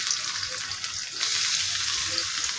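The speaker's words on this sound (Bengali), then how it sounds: "তেলটা দিয়ে নিতেছি এদিকে আগে পেঁয়াজটি দিয়ে নিতেছি পেঁয়াজটি বাজিয়ে নিতেছি" Onion frying in oil in a pan, a steady bright sizzle that jumps louder partway through as stirring shifts the pieces, with no talking.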